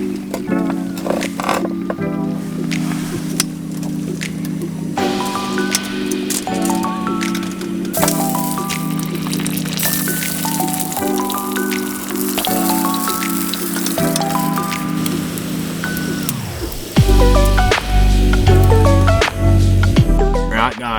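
Rain patters and crackles steadily on a surface close by during a fishing trip, dense and continuous, with musical tones running beneath it throughout.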